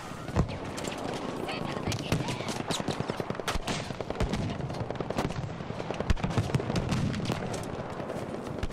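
Rapid gunfire in a Pacific conquest battle in Battlefield V, with dense bursts of automatic shots and sharp cracks firing almost nonstop, loud and close, alongside scattered distant explosions.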